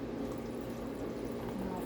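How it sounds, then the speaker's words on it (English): Water is poured into a large cup holding heaping scoops of coffee for an iced protein coffee, giving a steady, close splashing fill over a low background hum. "And then we got to put our water in there"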